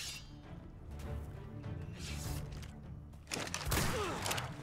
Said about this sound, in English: I'm going to try to use my rifle on this guy.